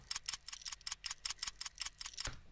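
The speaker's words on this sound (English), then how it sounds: "I just made some pretty basic hi-hat noises" A crisp, bright hi-hat pattern ticks in quick even steps, with layered accents and a low thump near the end.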